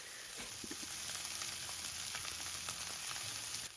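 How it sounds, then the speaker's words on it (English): Egg-free burger patties fry in a pan indoors, a close, steady sizzle and crackle with small popping spatters, no voices over it. "I love the sound of burgers frying."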